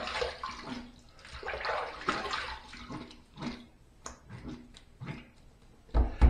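Water running from a tap to rinse a razor and face after a wet shave with lemon lime shave soap, a continuous close splashing hiss with shifting gurgles and a few brief knocks at the end.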